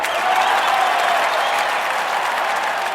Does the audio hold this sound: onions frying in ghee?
no